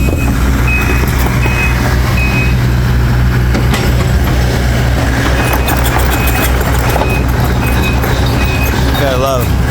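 A truck idles loudly at a septic install site while its reversing beeper chirps in a steady intermittent pattern, with people talking over the rumble.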